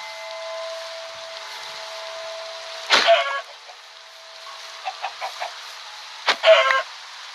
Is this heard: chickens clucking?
yes